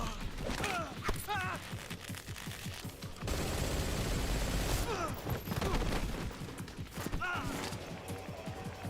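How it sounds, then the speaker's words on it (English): Dense gunfire from a choreographed Metal Gear gunfight, continuous bursts of shots and impacts at close range, with voices shouting over the firing. "the most realistic choreographed gunfight in all the Metal Gear series"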